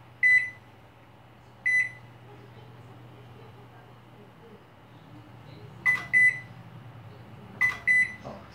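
A microwave oven wired through a series lamp tries to start but cannot. It gives sharp electronic beeps, first singly and then in quick pairs, over a low, steady hum close by.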